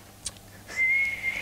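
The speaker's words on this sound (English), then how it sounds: "I heard it, A whistle." A single short whistle tone sounds near, steady and high for about half a second after a faint brief chirp, with a quiet background and no talking.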